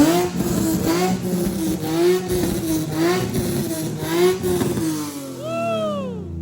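A car's VQ V6 engine revs repeatedly through a used aftermarket exhaust that has a leak, rising and falling in loud, close pulses before settling toward a lower drone.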